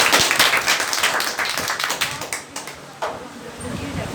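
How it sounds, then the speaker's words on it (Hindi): A class at a motivational session at a computer education centre claps, a dense burst of applause that thins into scattered claps toward the end. "इस क्लास के लिए एक जोरदार ताली होनी चाहिए"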